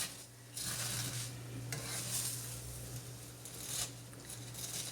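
Vermicelli frying in a pan for a qiwami sivayyan Eid dessert, a soft steady sizzle with scraping stir strokes at intervals, close and quiet.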